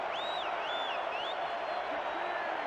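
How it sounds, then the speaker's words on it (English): A crowd cheers in a virtual football video game, a broad roar of massed voices with rising whistles and whoops above it, sustained and steady throughout. "Hear them come to their feet, trying to cheer their defense on."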